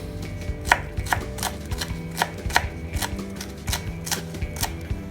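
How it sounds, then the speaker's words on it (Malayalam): Green chillies chopped with a knife on a board, sharp close knocks in an uneven rapid rhythm, about a dozen cuts with no talking. "പച്ചമുളകും ചോപ്പ് ചെയ്തെടുക്കുക."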